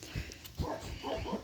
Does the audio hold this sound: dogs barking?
yes